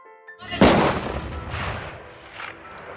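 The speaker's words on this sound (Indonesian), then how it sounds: "Namun terdengar suara tembakan yang tak jauh dari lokasi." A single sharp gunshot cracks loudly and echoes away, followed by a couple of fainter distant reports.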